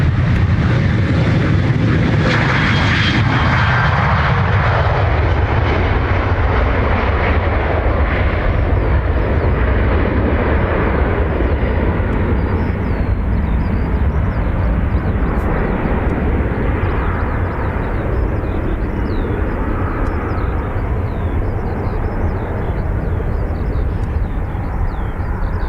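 A passenger airliner takes off from runway 28 right at Dublin Airport, its jet engines roaring loud and steady with broadband rumble, the tone shifting as it accelerates and climbs away.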